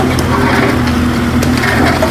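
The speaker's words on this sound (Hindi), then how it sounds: "और इस तरह ध्वस्त हो गई ईदगाह की दीवार।" A JCB excavator knocks down the encroaching wall of an Eidgah, with loud, continuous crushing and cracking of masonry over a steady engine drone, close by and without pause.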